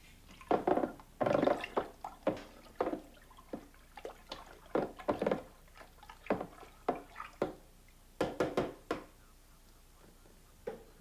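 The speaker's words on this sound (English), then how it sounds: "sprinkle the yeast into the juice gently and stir lightly" Yeast being stirred into wine kit juice in a primary fermenter, with a series of close wet sloshes and splashy swirls in irregular bursts, alone without talk.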